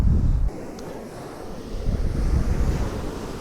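Ocean waves surge and break beside Boscombe Pier in Dorset, a steady broadband roar with gusting wind buffeting the microphone, swelling again toward the end as a new wave rolls in; no voices.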